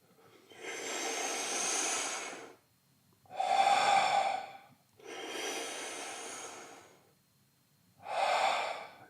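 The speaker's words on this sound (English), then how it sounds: "So a breath in is this." Slow, deep Wim Hof Method breathing, the air drawn into the belly and then the chest, with four long, loud airy breaths alternating in and out, very close to the microphone, separated by short silences and without speech.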